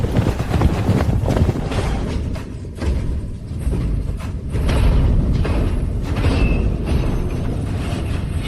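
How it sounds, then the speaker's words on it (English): Cavalry horses charging in a battle scene, a loud, dense rumble of galloping hooves with heavy thuds and rolling booms throughout, close and continuous with no voices. "Dust clouds ahead! Cavalry incoming!"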